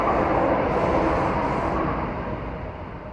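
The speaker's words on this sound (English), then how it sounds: "Right, that's the train gone, thank goodness for that." A train rumbles past nearby with a broad, steady roar that slowly fades away as it moves off.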